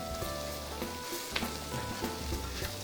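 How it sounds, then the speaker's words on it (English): Shrimp searing in a hot pan for shrimp and grits, a soft continuous sizzle and crackle heard close but fairly quiet, with a faint tap partway through and no voices. "So we want our shrimp to have a nice golden sear to them."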